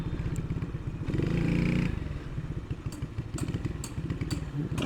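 EMA 100 motorcycle being ridden through town, its small single-cylinder engine putting rapidly and rising briefly in a rev before settling back, close and steady with a few clattering ticks.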